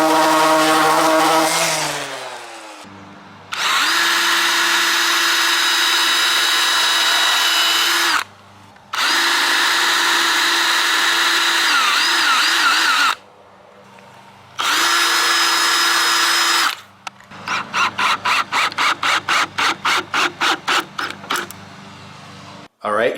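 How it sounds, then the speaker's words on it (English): A power sander works rough wooden table legs in loud, sustained bursts of about five seconds each, broken by short pauses. It finishes with a run of rapid, stuttering on-off pulses. "Now I'm going to go ahead and sand them all because they're a little rough, smooth them out"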